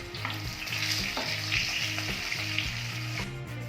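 Spiced potato mixture with chili powder, turmeric and salt being stirred in a frying pan, a loud steady sizzle with rhythmic scraping strokes repeating about twice a second.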